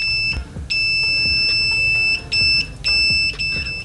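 Continuity beeper of an OWON CM2100B clamp meter at maximum volume, sounding loud shrill high-pitched tones in several bursts of varying length, close up over faint handling noise.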